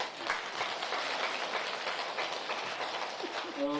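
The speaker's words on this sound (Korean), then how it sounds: "박수 한번 치세요." Audience applause at a lecture hall talk, a quiet, distant, continuous patter of many hands that stays steady and somewhat muffled throughout.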